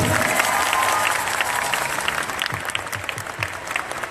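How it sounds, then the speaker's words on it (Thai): Crowd at a mini concert at Playground Market, The Nine Center, applauding, a full burst of clapping that starts strong and slowly thins near the end, with a few cheers mixed in. "ปรบมือให้เช็คหน่อยครับ"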